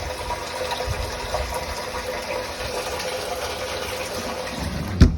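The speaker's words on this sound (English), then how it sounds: "live well is operating" Steady broadband rush of water running into the live well of a 2022 World Cat 295CC boat, with a pump humming underneath at constant level, ending in a short sharp knock near the end.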